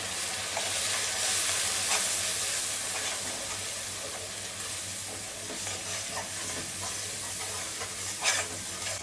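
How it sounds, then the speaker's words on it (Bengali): Spices and ground coriander being sautéed for a beef brain curry, a continuous soft sizzle and hiss with repeated stirring scrapes, close and steady, with no talking. "এখন এগুলো কষিয়ে নেবো ভালো করে"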